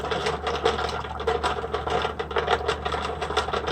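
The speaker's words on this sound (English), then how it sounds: "Just going to whisk that up until we don't hear that granulation anymore" Small whisk stirring a homemade gummy mixture in a bowl, producing rapid, even clicking and scraping strokes at close range with no pauses.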